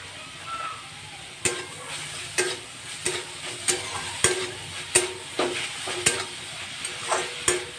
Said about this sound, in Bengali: এবার এর মধ্যে একটু চিনি মিক্স করে দেবো